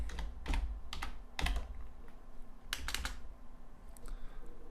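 Short clusters of computer keyboard keystrokes sound close and distinct, with pauses between bursts and a low room hum underneath.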